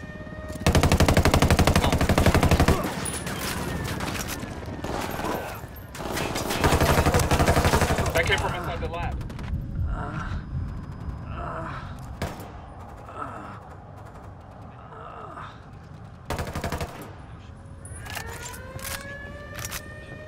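Heavy automatic gunfire in the video game Ghost Recon Wildlands during an assault on a drug lab, two long loud sustained bursts and a later short one, with quieter scattered shots, game effects and voices between.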